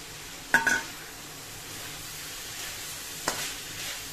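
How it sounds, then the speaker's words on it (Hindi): Minced meat fries with ginger and garlic in a pan, giving a soft continuous sizzle under two sharp scraping stirs of a spoon against the pan, close by with no talk. "कीमे को अच्छे से एक मिनट भूनूंगी मैं"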